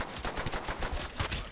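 Rapid gunfire from the Call of Duty Zombies video game, a quick series of loud, close shots in an uneven burst filling the whole moment without talk.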